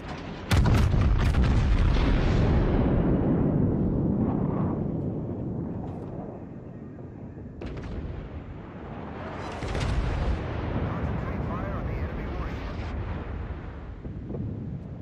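Heavy battleship guns fire in World of Warships, with a Musashi Tier 9 Japanese battleship firing at an enemy warship. Deep, loud booming salvos roll out with long rumbling tails, and a second big blast comes later.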